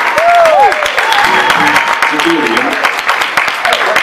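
An audience claps for a musician at a live CD release show, with steady applause throughout and someone talking loudly over it.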